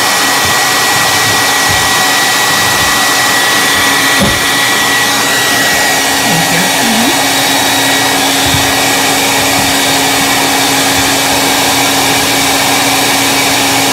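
Hair dryer blowing steadily and loudly to dry a pumpkin fairy house craft project, a continuous close whooshing hum that runs alone throughout.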